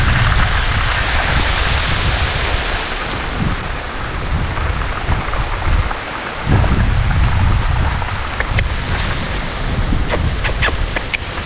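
Heavy rain pours down steadily and loudly close by, with low rumbling thunder rolling underneath and a few sharp drip-like taps near the end.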